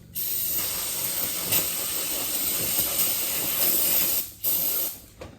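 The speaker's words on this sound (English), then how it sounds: "We'll take some brake cleaner, clean that off" Continuous loud hiss of brake cleaner sprayed from an aerosol can onto a Graco GX-7 spray gun used for lifting concrete, close and steady with brief breaks near the end.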